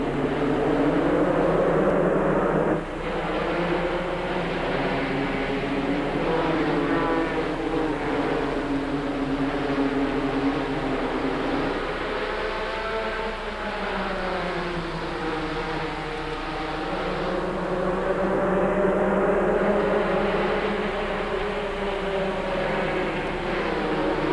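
Roaring field of NASCAR race cars at Bristol in 1993, a continuous loud engine drone over 140 mph on the front straightaway, with pitch sweeps as cars pass, alone without talk.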